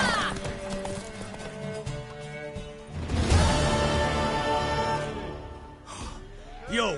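Horse hooves galloping in The Witcher 3, a steady rhythmic clip-clop running close and loud under dense game music and effects, with a brief voice near the end.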